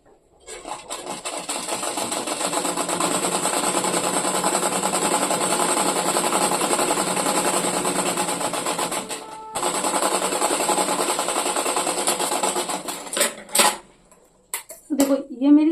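A sewing machine stitches a zipper into a skirt, running in a fast, steady mechanical rattle for several seconds with one brief pause, then stopping amid a few close clicks and handling knocks.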